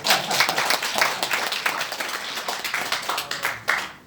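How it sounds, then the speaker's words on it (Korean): An audience at a poetry book launch in a Seoul education hall claps together, a dense burst of overlapping hand claps that holds steady for several seconds and then tapers off near the end. "박수 한번 쳐야 되겠다."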